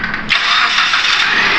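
Proton Inspira car engine cranking and catching at about 0.3 s, then running loud and steady close by through to the end, in a workshop check for a failed air-conditioning compressor.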